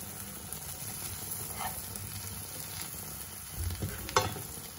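Prawns frying in butter and garlic in a pan over medium heat, a steady close sizzle with light crackle, a brief louder spatter near the end, no talking.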